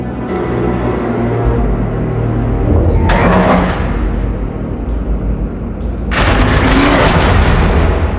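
Explosive booms in the Batman Telltale video game, two sharp loud blasts a few seconds apart, each with a bright crackling burst and lingering rumble over a steady low background.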